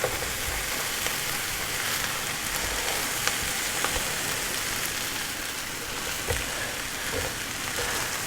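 Fried rice sizzling in a pan as it is stirred, with a steady dense crackle and faint scraping ticks of the utensil throughout, close and continuous, with no talk.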